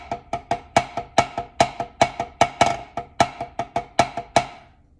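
Samba caixa snare drum played in a steady sixteenth-note pattern without the accented stroke, crisp, close strokes of fairly even loudness in a continuous rhythm, heard alone.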